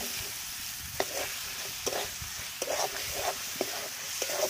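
Chicken meat sizzles and fries in a pan while cooking ghugni, a steady hiss under repeated sharp stirring clinks and scrapes, close and alone with no talk.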